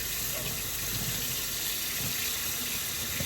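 Hot water runs steadily from a tap in a steady, soft hissing stream, faint and continuous with no talk over it.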